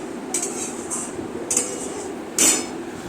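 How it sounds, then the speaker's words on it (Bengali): A spice mixture is stirred and fried in a pan for a Bengali dish, with a few clinking scrapes of a utensil against the metal pan over a low sizzle. "এবার এই সবগুলোকে একসাথে আমি ভালো করে কষাতে থাকবো"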